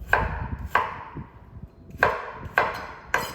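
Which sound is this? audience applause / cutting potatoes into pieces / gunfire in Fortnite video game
cutting potatoes into pieces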